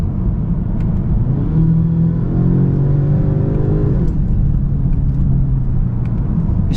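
A 2023 Genesis G70 2.0t with its 8-speed automatic accelerates with a steady, loud engine drone whose pitch climbs and then drops back at an upshift before pulling on again, with no talking.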